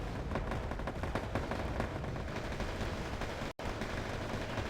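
In the real-time strategy game Wargame: AirLand Battle, units open fire on a troop transport, producing dense, continuous battle noise with crackling shots and rumbling blasts that layer into a steady roar, cut by one brief dropout near the end.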